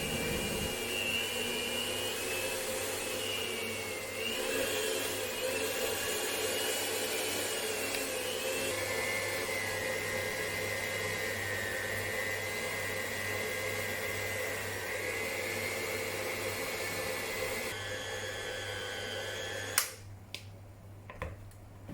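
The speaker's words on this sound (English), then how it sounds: "I'm using electric mixer with a dough hook attached to take over the manual kneading work" An electric stand mixer with a dough hook kneads dough for a savory ham and cheese loaf, a steady motor whine droning continuously near the microphone, ending with a few sharp knocks.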